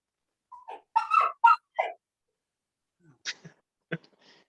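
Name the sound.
puppy dog whimpering and yipping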